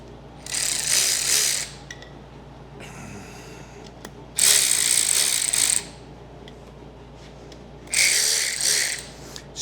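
A socket ratchet clicks rapidly in three separate bursts, with short pauses between, while turning a bolt on a 4L60e transmission during a 4WD-to-2WD conversion, close and crisp.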